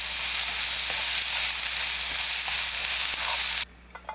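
Fish cake stir-frying in a frying pan with a little cooking oil, a steady close sizzle with faint scraping stirs, cutting off abruptly near the end to near silence.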